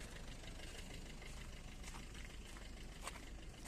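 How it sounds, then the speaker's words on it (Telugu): A 2020 Maruti Suzuki Brezza VDI diesel engine idles steadily, a continuous low rumble with a faint knocking texture, heard alone without talk. "మీకు ఇంజన్ సౌండ్ కూడా చూపిస్తాను"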